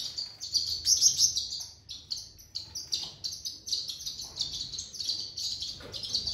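Gould finches chirp close by in a dense, continuous stream of thin, high twittering calls with no voices.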